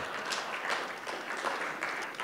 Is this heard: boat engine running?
no